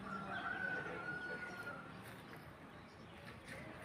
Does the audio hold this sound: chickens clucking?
yes